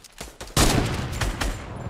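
Rapid gunfire bursts from the video game Fortnite, a loud sustained volley of shots with a few sharper cracks, filling the whole moment with no talk.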